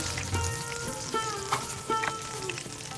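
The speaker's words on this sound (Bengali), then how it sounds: "তো বন্ধুরা দেখেন আমি এইভাবে ভেজে নামিয়ে রাখছি" Hilsa fish paturi wrapped in bottle gourd leaves fries in hot oil, with a steady close sizzle and faint crackles, and no voices.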